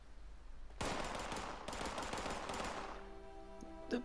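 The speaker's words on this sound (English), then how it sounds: "They're both shooting each other with 10mm pistols." Rapid gunfire from 10mm pistols and a hunting rifle in Fallout 76 erupts in dense overlapping bursts for about two seconds, then tapers off as a lingering ring and a few scattered shots fade, with no voices.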